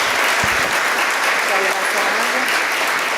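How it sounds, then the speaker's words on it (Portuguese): Audience applause at a crisis-management masterclass, a loud, dense, unbroken wash of clapping from a full room, with a few voices faintly mixed in. "Vamos bater palmas novamente, porque merece demais."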